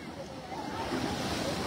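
Sea waves churn along the Dwarka coast under a rain forecast, a constant rushing roar mixed with wind buffeting the microphone.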